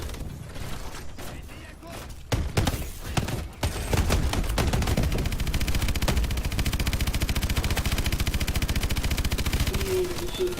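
Rocket and missile fire in Call of Duty: Advanced Warfare: a dense, loud barrage of rapid repeated blasts and mechanical rattling that settles into a continuous thrumming volley, with a voice speaking briefly over it.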